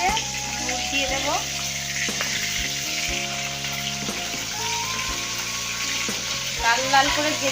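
Fish heads fry in hot oil in a wok, crackling and sizzling continuously up close with bits of stirring and scraping.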